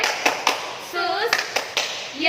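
A few rhythmic claps from a Sunday school clap chant, separated by short stretches of chanted voices, close and fairly clear.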